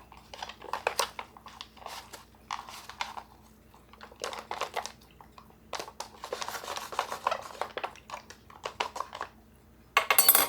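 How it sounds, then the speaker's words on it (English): Cabbage roll casserole being stirred in a pot, with repeated scraping and rubbing strokes of a utensil against the pot in irregular bursts, close and moderately loud, ending in a louder burst. "Let's give that a nice quick stir."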